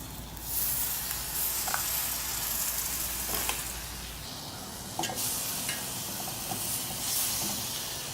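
Spam cooks in a metal canteen cup over an outdoor flame, hissing and sizzling steadily at close range with brief scrapes and clicks of a utensil as it is moved around.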